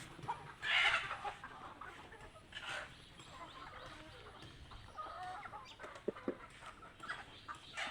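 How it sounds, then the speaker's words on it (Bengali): Broiler chickens on a poultry farm cluck close by in scattered, irregular bursts over a busy background of other fowl. "এই যে ভাই ফার্মি মুরগি"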